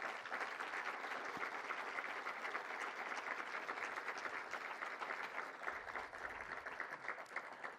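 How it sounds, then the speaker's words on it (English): An audience applauds the 2026 Rose Court at the 107th Rose Queen announcement, a dense, steady wash of clapping that holds evenly for several seconds without letting up. "please, another big round of applause for our 2026 Rose Court"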